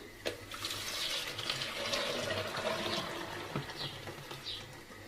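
A milk and yogurt mixture poured in one go from a blender jug, a steady, close liquid splash and trickle running for several seconds without speech.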